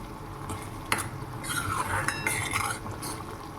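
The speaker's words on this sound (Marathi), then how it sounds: "पाहू शकता की टमाटरची प्युरी छान फ्राय होत आहे" Tomato puree frying in oil, with the spatula stirring and scraping across the pan in a quiet, close, soft sizzling texture and one sharper clink near the start; no one speaks.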